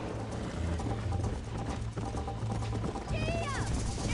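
Horse hooves clatter at a gallop during a race in Red Dead Redemption, a steady rhythmic pounding under game music and other noise, with a voice briefly heard and a rising whistle-like tone near the end.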